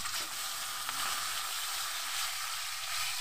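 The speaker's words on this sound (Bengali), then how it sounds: "আমি এক এক করে এরকম মাছগুলো এখন ভেজে নেব" Pangas fish frying in very little oil gives a steady, dense sizzle that holds evenly throughout, close and fairly loud, with no voices.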